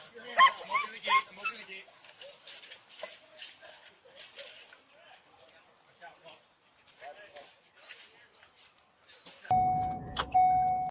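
Dogs in a replayed police clip give brief yips and whimpers, faint and partly buried under people talking, ending with a louder electronic tone.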